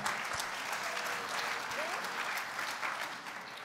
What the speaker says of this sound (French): Bravo à eux, on peut les applaudir.